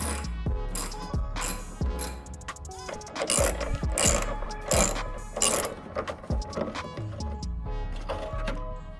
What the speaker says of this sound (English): go ahead and remove these two little bolts here